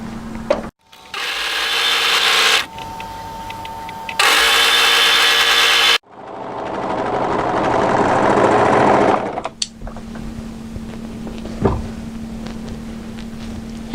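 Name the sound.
sewing machine sewing a sleeve underarm seam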